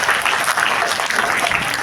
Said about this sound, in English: please give a huge round of applause for every single person who have